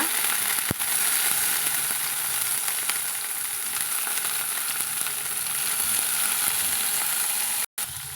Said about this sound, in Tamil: தக்காளியை நம்ம வதக்கி விட்டுக்கலாங்க